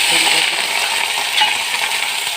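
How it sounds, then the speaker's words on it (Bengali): Flat beans frying in hot oil in a wok, a dense bright sizzle with scraping and stirring clatter close by, continuous and fairly loud with no talking. "কড়াই তেল দিয়ে গরম করে নিয়েছি এবার ভেজে নেবো সিমটা"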